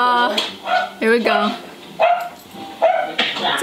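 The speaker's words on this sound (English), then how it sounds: "hears the dog, so he's like, where's that dog at?" A dog barks in short bursts several times, fairly close, with people talking in between.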